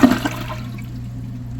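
A Kohler Cimarron Class 6 toilet on its extended flush gives a close, loud rush of water that quickly settles into a steady draining swirl.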